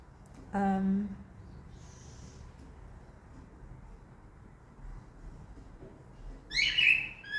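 A bird gives a short chirping call near the start, then a brief higher tweet near the end, with quiet room noise in between.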